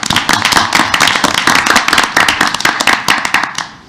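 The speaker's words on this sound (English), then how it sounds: "how about a round of applause for the swimmers and our art students" A crowd applauds at a school board meeting with dense, lively clapping that holds steady for several seconds and then begins to thin out.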